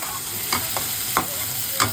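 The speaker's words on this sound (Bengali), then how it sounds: "মশলাটাকে আমরা ভালো করে কষাবো" Spice paste with onion paste is fried and stirred in a pan for a prawn-stuffed potol dolma, a steady hiss with four or five distinct spatula scrapes, close and without voices.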